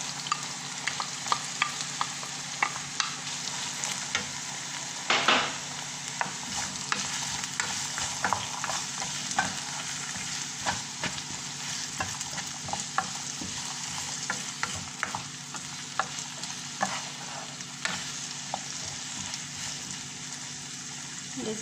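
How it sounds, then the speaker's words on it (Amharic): Chopped onions stir-fried in a pan for a potato shakshuka, a steady broadband sizzle with repeated scraping stirs and a louder clatter around five seconds in, close and continuous with no talk. "እንደዚህ አድርጌ ትንሽ ካዋሃድኩት በኋላ"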